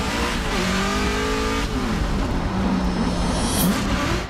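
A Formula Drift race car with an engine not running at full strength, at 2018 Formula Drift Atlanta, roars loudly and continuously down the track, revs rising and shifting, with gritty tire and exhaust noise.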